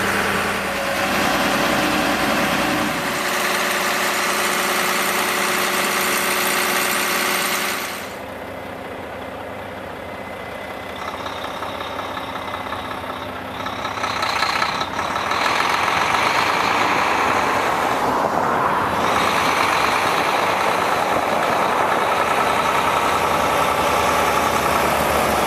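A Mack heavy haul truck engine idles with a steady, loud diesel rumble. The engine sound drops in level partway through, then returns to a full idle.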